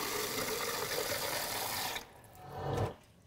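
Tap water pours steadily to rinse a GX300 prefilter, a loud broadband rush that cuts off abruptly near two seconds, followed by a brief lower splash or gurgle as water drains.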